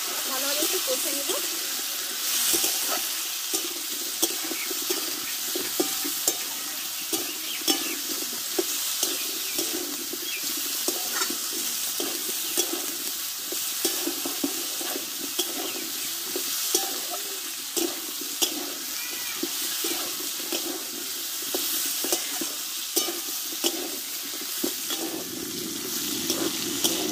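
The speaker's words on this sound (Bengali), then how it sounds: "এই সবজিটা আমি তেলে কষে নেব।" Mixed vegetables (potato, broad beans, radish) stir-fried slowly in oil with turmeric powder over low heat, a steady soft sizzle with scattered scraping clicks throughout.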